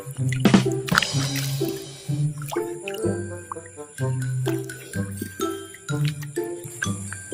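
Dirt being washed off with water, with splashing, dripping and light clinking in an uneven, steady rhythm close by.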